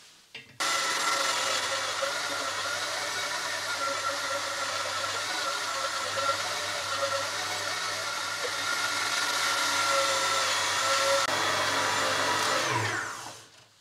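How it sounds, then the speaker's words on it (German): A meat grinder working pork back fat for homemade Lyoner sausage, a steady loud motor whir with grinding texture that runs evenly for about twelve seconds and then winds down. "So, jetzt beginnen wir den Rückenspeck durchzulassen."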